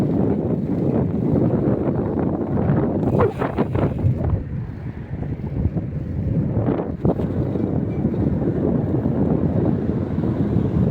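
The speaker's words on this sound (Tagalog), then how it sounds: "Mahangin din pala eh." Wind gusts sweep along the Dammam Corniche seafront during a Friday bike ride, a loud, steady buffeting rumble against the microphone throughout, with no voices.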